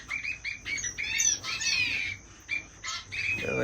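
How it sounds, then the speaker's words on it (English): Owl finches in a bird room give repeated short squeaky chirps and calls, several birds close by in quick uneven bursts, with a bright whistle near the end and no talking. "Here's the owl finches."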